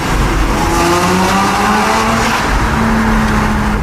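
A Porsche 987 MkII Cayman with a SCART valved exhaust roars steadily at speed, a loud, sustained engine note with shifting harmonics and no voices over it.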